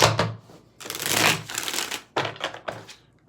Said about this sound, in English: Okay, let's get 4 shuffles here.